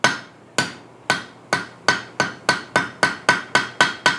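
A blacksmith hammers a hot steel bar on an anvil to cut it, delivering about fourteen sharp ringing blows that speed up from a slow steady beat to quicker strikes, close and loud with no talking.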